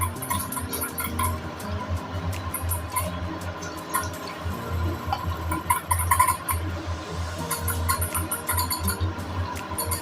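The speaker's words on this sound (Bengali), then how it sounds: "আমি এবার চিকেনগুলো একটা একটা নিয়ে তেলের মধ্যে ছেড়ে দিচ্ছি।" Chicken pieces dropped one by one into hot oil over medium heat, frying in small batches of four or five; a steady crackling, spattering sizzle with scattered sharp pops runs close and continuous throughout, with no talking.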